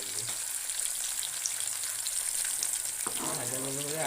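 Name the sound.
pumpkin slices frying in oil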